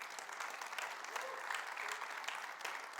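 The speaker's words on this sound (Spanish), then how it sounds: "Dale un aplauso a Dios por eso." A church congregation clapping together in steady, dense applause, moderately distant and fairly quiet, with faint voices mixed in.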